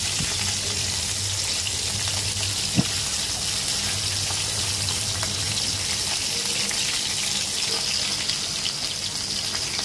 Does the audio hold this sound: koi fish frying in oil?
yes